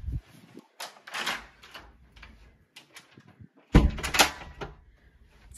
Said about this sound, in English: we'll head on in through the main door